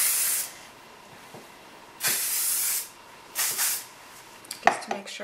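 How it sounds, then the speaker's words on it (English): Several short bursts of medium-hold hairspray hiss out, each about half a second to a second long, separated by pauses, followed by a few light clicks and taps. "I take my Kenra finishing spray, it's the medium hold, and I'll just go over everything."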